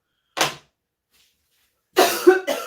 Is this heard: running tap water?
no